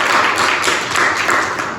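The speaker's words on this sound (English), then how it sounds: "I want to hear a round of applause" An audience at a magic show gives a round of applause, a close, continuous wash of many hands clapping at a steady, fairly loud level throughout.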